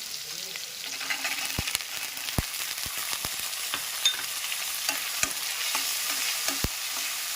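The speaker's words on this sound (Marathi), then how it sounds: "कांदा चांगला परतवून झाल्यावर त्यामध्ये आपण टाकणार आहोत वाटाणा" Peas and onion sauté in hot oil in a Maharashtrian kitchen, giving a continuous close sizzle broken by sharp clicks and scrapes of a spoon stirring against the pan, with no talking.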